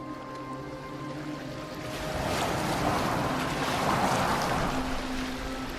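A boat moves across open water in the video game Assassin's Creed Valhalla, with waves washing and wind swelling steadily, plus a faint sustained musical drone underneath and no talking.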